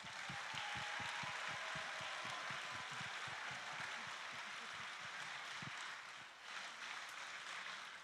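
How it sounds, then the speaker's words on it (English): Steady applause from an audience after a school junior primary nativity performance, a continuous even wash of clapping throughout, slightly dipping near the end. "Let's give them one more round of applause, please."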